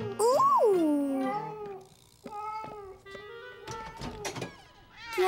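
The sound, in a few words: cartoon cat meowing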